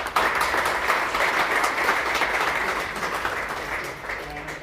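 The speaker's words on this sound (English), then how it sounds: "I'd like to give you a round of applause." Steady applause from a seated audience at a business breakfast meeting on digital health, a dense, even wash of clapping that runs the whole time and tapers slightly near the end.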